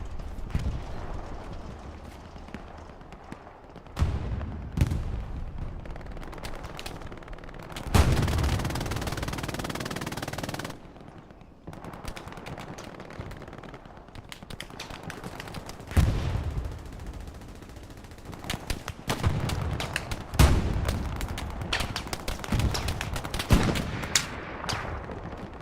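Machine gun fire rattles across a Hell Let Loose match, with bursts of rapid shots, scattered single gunshots and heavy impacts recurring at varying distances amid the din of battle.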